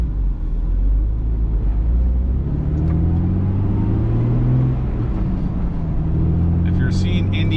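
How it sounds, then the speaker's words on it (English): A Jeep Wrangler TJ Rubicon, built by Davis AutoSports, accelerates up through its gears, its engine rumbling loud and steady close by with rising and falling tones as the gears change. "We're gonna take this thing up to speed and go through all the gears"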